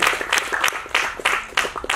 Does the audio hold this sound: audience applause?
yes